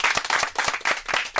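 A short burst of lively clapping from a small group in a radio studio, quick irregular claps lasting just over a second.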